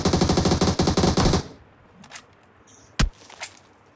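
Rapid automatic gunfire in a video game: a loud burst of fast repeated shots, then a few scattered single shots after a brief pause.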